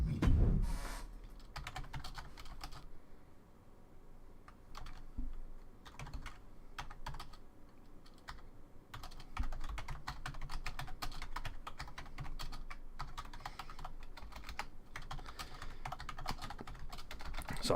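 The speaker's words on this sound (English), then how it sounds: "So I'm just typing now" Fingers type on a computer keyboard in quick, irregular clusters of clicks, close and clear over a low, steady background hum.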